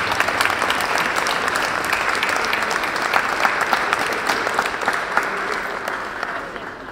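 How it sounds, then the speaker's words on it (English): Sustained, dense applause from a crowd at the Silverrudder 2018 sailing race award ceremony. The clapping is loud and steady throughout, with no talking. "Huge respect and a round of applause to each other and yourselves"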